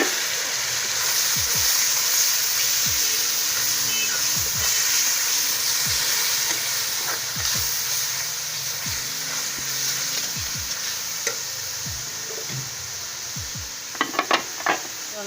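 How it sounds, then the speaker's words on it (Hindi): Tomato paste added to hot spices and stirred in a pan while making kadhi pakora, with a steady sizzle of frying, repeated soft stirring scrapes and a few clinks near the end. "मसाले डाल रही हूँ, ये टमाटर का पेस्ट डाल रही हूँ,"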